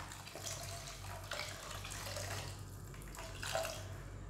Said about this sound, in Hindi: इसमें अब हम पानी डाल देंगे, अगर आपके पास वेजिटेबल स्टॉक है तो वेजिटेबल स्टॉक डाल दीजिए।